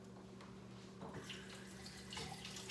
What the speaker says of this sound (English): I'm filling one of the cans with water.